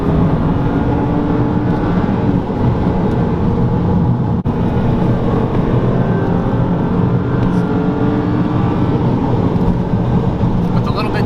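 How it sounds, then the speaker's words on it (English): A 2007 BMW 328i with a naturally aspirated 3-liter inline-six drones loudly and continuously from inside the cabin while being driven fast, a smooth, dense engine and road roar that never lets up. "that naturally aspirated inline-6 sounds great for what it is"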